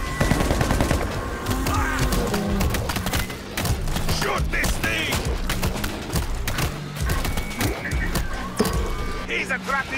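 Rapid bursts of gunfire and fusillades in the zombie shooter World War Z Aftermath, loud and nearly continuous, mixed with shouting voices and game effects.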